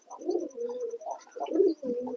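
Pigeons in a loft coo in soft, throaty, rolling phrases, several close calls in quick succession with a faint high tone behind them.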